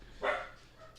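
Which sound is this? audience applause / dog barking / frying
dog barking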